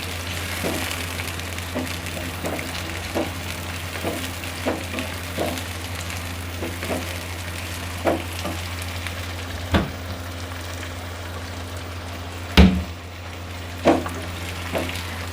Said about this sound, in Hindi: इसको हम तकरीबन इसमें 5 से 7 मिनट तक फ्राई कर लेंगे